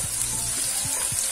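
Onions sauté in hot oil for a taco filling, giving a steady close sizzle and frying hiss with faint stirring scrapes and no talk.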